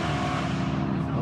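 Sustained growl of a BMW M5 V10 engine on a race circuit, a steady, fairly loud drone held throughout the short stretch.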